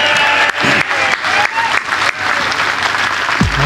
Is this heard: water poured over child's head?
no